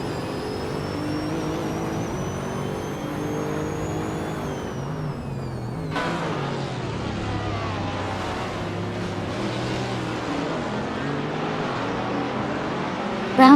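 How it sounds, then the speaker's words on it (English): A 2003 Seat Cupra GT engine droning steadily in a racing video game, a sustained mid-pitched hum with rising whine, shifting in tone partway through as the car keeps accelerating alongside other racing noise. "Zotsfied is driving a 2003 seat Cupra GT"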